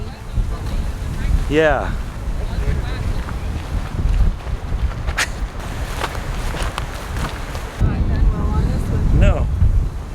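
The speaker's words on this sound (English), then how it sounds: "It is pretty windy." Strong gusts buffet the microphone on a hike near Grand Lake, Colorado, a rough rumbling roar that rises and falls in waves, with brief rustles and a short spoken word partway through.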